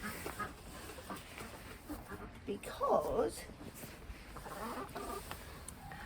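Ducks around a duck house give alarm calls, a few faint quacking bursts heard in the background while a person talks over them.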